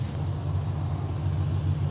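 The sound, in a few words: car engine warming up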